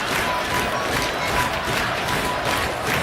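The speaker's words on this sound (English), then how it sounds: "Certainly the Mustang home crowd believes that their home team can win this" A large home soccer crowd cheers and roars in the stands at a college rivalry match, a dense, loud, sustained wash of shouting voices with no break.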